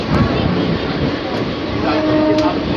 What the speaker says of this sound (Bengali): তমলুক স্টেশন ছাড়লো আমাদের স্পেশাল ট্রেন, যেটা পাঁশকুড়া দীঘা।